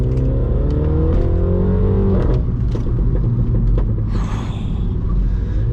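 Mini John Cooper Works with front-wheel drive driving on icy, snowy, bumpy roads, its engine droning loudly and steadily from inside the cabin, with shifting revs and thumps from the rough surface.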